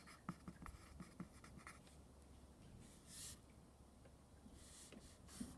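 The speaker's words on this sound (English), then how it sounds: "I'll write it over there." Marker or chalk writing on a board during a lesson on dividing integers: soft, faint scratchy strokes in short bursts with small pauses between them, heard alone in a quiet room.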